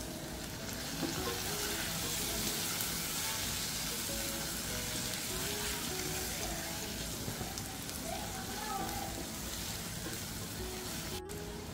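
Chopped potato fries in a pan with turmeric for dal-rice khichdi. A dense, continuous sizzle with soft crackles runs the whole time, close and even, with occasional stirring.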